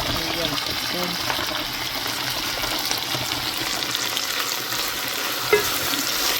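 Okra curry and tomato sizzle and fry steadily in a pan while being stirred, a continuous bright hiss that stays fairly even throughout, with a small clink near the end and no speech.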